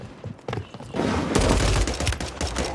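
Rapid pistol gunfire rings out in Call of Duty on Rebirth Island as a dense cluster of sharp shots and impacts, growing louder and continuing in quick succession.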